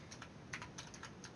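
Rapid, close keystrokes on a computer keyboard, a steady patter of light clicks with a few sharper taps, heard alone without any voice.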